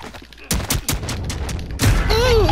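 Loud gunfire in a shooter video game, several sharp shots in quick succession followed by a heavier blast, with a voice briefly audible underneath.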